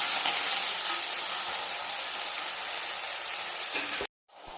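Tomato pieces frying in hot oil with cumin seeds in a home kitchen pan, giving a loud, steady, close sizzle that stops abruptly near the end, with no talking.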